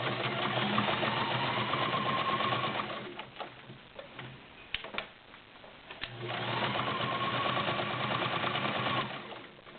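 A Kenmore model 1755 sewing machine with a size 16 needle stitches through six layers of denim in two sustained loud runs of rapid whirring, separated by a quieter gap of clicks and handling.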